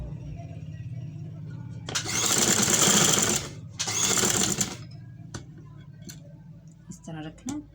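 A sewing machine stitches lace onto fabric in two loud bursts, the first about two seconds long and the second shorter, with a brief pause between them. A quiet voice and small handling noises come before and after.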